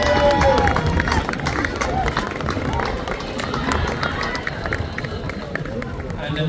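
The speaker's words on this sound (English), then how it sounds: "Big round of applause." A street crowd at the Fermoy St. Patrick's Day parade keeps up a continuous, dense round of clapping for a passing scout group, with voices and chatter running underneath.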